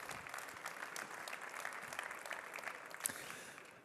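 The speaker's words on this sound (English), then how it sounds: "Round of applause." Audience applause opening the Think Next conference plenary in Mechelen, a dense, even wash of clapping from a large room, fairly quiet and distant, tapering off at the end with no talk over it.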